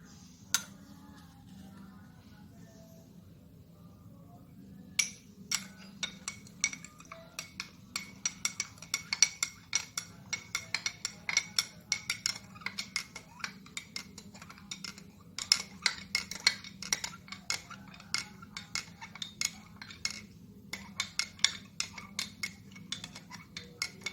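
A metal spoon stirs salt into water in a drinking glass, making rapid, crisp clinks and scrapes against the glass that grow busier after a quiet start and keep going steadily, close up.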